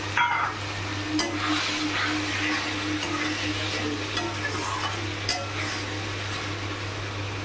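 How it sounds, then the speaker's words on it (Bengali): Potatoes tossed in hot oil with ground coriander and spices in a pan for a fish curry, a continuous close sizzle with scraping stirs and occasional utensil taps, no talk. "আলুগুলো দিয়ে একটু কষিয়ে নেব ভালো করে।"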